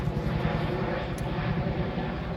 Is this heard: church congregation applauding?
no